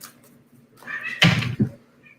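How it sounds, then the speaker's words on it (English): A pet cat gives a single rising meow close by, followed by a short thump or knock and then quiet. "If you hear my cats meowing"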